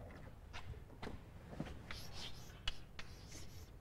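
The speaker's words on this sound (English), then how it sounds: "maybe I should write some of this on the board" Chalk or a marker writes on a board in a lecture hall, making faint scratchy strokes and taps in irregular short bursts at a quiet distance.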